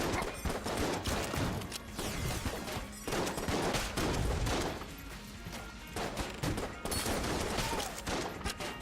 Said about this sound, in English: the shots are pretty slow